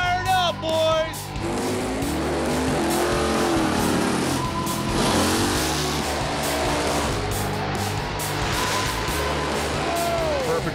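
All-Mopar drag race cars at Indy firing up and racing, with loud roaring engines revving and rising in pitch continuously throughout, and a voice speaking over the noise.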